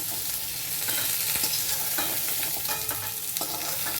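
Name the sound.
frying eggs and pointed gourd (potol) in a pan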